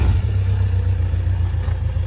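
A 1985 Suzuki GSX 550 motorcycle running after sitting unused for fifteen years, a steady low engine drone with a slight rhythmic pulse, close and loud with no talking.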